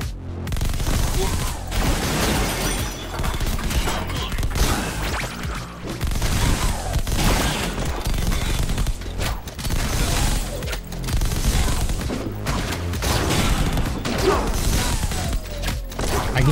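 Rapid automatic gunfire from a machine gun in the fast-paced first-person shooter game Mullet Mad Jack, loud and sustained in dense bursts mixed with crashes and booms, with a voice speaking at times.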